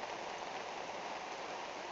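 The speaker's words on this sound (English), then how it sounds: "So we pretty much just saw a rainstorm come in." Heavy rain pours down steadily in Massachusetts after a storm rolls in from a clear sky, a dense, even hiss of drops hitting the ground without a break.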